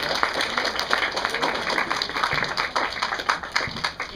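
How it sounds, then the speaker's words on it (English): An audience claps at an outdoor renaissance faire, steady scattered applause at moderate distance with crowd murmur underneath. "give them a big round of applause"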